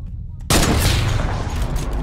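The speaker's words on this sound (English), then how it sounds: "So nothing literally happens when you shoot this thing with a heavy sniper." Heavy sniper rifle fire in the Fortnite video game, a sudden loud blast that cuts in after a brief lull and rolls on as a dense, sustained boom with no talk.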